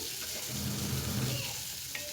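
Sliced green chillies and onions frying in a pan of tempering oil, giving a steady, soft sizzle and crackle with no talk.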